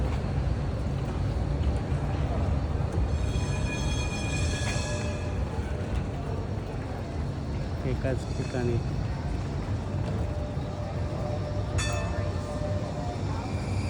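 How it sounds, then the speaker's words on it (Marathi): A tram-style train passes along a city street in Zurich with a steady low rumble and rolling wheel noise, and high squeals and tones ring out at intervals as someone speaks over it. "त्या बाजूनं ही एक ट्रेन आलेली दिसेल तुम्हाला"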